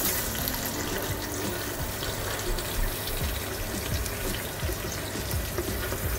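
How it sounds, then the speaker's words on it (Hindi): Chopped onions go into hot oil in a pan for a saffron mutton dish, setting off a steady, loud, unbroken sizzling hiss that fills the whole stretch without any talking. "तो व्यूअर्स, ये हम अब प्याज डालने लगे हैं इसमें।"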